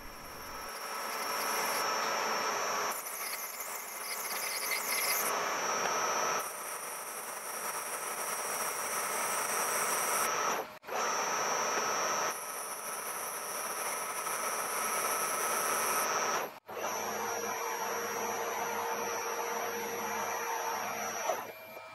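A lathe shaves down the outside of a small amulet, a loud, steady machine whine and hiss that holds for several seconds, changes tone between passes and stops briefly twice, with no voices.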